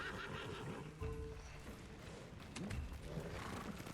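A horse in the samurai game Ghost of Tsushima gives a clear whinny over a bed of battle ambience and hoof clatter, moderately near, with a second neigh following a few seconds later.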